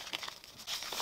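A sheet of A4 paper is folded by hand, giving brief, close crinkling and soft rustling bursts with a sharper crease near the end, quiet with no talking.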